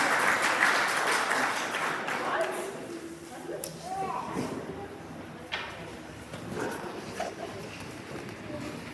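Audience applause at a graduation ceremony: a dense wash of clapping fills the first few seconds, then thins and fades as a voice speaks over the hall.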